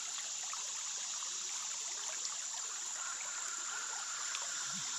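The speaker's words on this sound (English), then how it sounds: "Hear the rushing water." Rushing water of the Buffalo River, a steady broadband stream flow heard close and continuous, with faint insect or bird sounds in the background.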